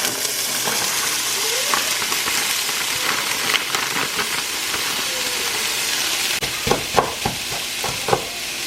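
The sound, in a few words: rice frying in hot pan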